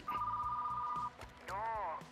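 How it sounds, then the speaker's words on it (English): A telephone rings in a video store simulation game, a steady electronic tone followed after a pause by a warbling trill, over low background music. "I knew the phone would interrupt."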